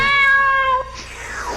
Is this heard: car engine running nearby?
no